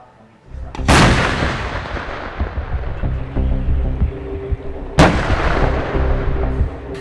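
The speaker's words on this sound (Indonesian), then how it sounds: "Suara dentuman ini tak henti dari Kamis malam hingga Jumat pagi" Heavy artillery booms from Israeli tanks shelling Gaza near the Palestine–Egypt border, two loud blasts about four seconds apart, each with a sharp crack and long rolling echo, no talk.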